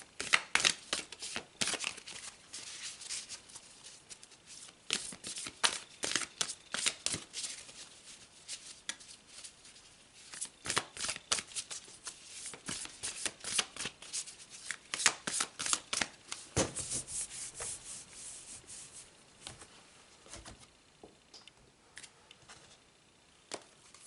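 Tarot cards being shuffled by hand, repeated riffling and slapping bursts in irregular clusters, close and crisp, continuing for over twenty seconds.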